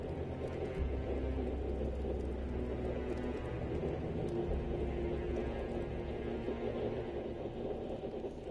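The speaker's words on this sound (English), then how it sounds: "Do y'all hear how hard it is raining outside, bro?" Heavy rain pours down outside in a steady dense wash, heard from indoors, with a low continuous rumble underneath and no clear individual drops.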